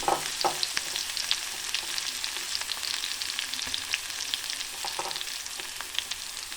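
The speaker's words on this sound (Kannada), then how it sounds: "2-3 ಸ್ಪೂನ್ ಎಣ್ಣೆ ಕಾದ ನಂತರ ಇದಕ್ಕೆ ಬೆಳ್ಳುಳ್ಳಿ ಹಾಕಬೇಕು." Garlic sizzling in two to three spoons of hot oil for a Kirsali baji stir-fry, a steady dense crackle with scattered sharper pops and occasional stirring scrapes, close and continuous with no talk.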